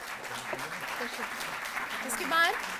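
An audience applauds at a Delhi government ceremony honouring Tokyo Olympics athletes, with sustained, fairly loud clapping that carries on while voices sound over it.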